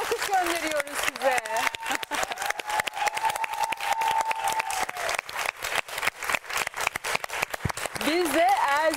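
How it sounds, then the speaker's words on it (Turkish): Schoolchildren at a primary school in Kargın, Erzincan clap together in a long, steady burst of crowd applause, with voices heard over it. "Biz de alkış gönderiyoruz size."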